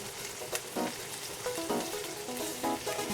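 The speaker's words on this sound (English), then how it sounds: "we're going to saute it for about 8 to 10 minutes until it becomes tender" Asparagus sautéing in a pan after being salted, a steady close sizzle and crackle running throughout with faint clinks of stirring, no talk.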